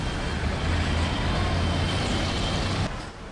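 Continuous city street traffic, a dense low rumble of trucks, buses and cars passing near a container school, steady throughout before easing slightly at the end.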